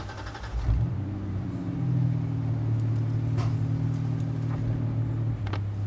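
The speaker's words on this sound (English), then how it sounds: "Full exhaust, dual tips, just the factory catalytic converter." A car with a full exhaust system, dual tips and a factory catalytic converter cranks and settles into a steady, deep idle rumble, close and continuous with no one talking.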